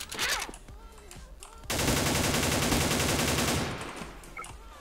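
Rapid automatic gunfire from a shooter video game rattles loud and close for about two seconds, after a few scattered shots, then fades into quieter game sounds.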